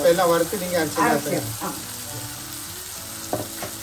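Garlic paste sizzles and fries in a pan for a Tamil vatha kulambu, a loud close crackle with stirring scrapes early on that settles into a steady hiss.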